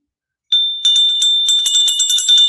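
A yellow-painted cast iron bell rings loud and close, a bright sustained tone struck repeatedly in a quick jangling series after a moment of silence.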